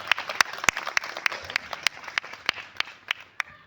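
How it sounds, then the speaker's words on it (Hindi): A crowd at a welcome ceremony in Ranjit Nagar claps hard, a busy stretch of steady applause with sharp individual claps standing out near and loud throughout, no talking over it. "एक बार जोरदार ताली बजा दीजिएगा इनके लिए।"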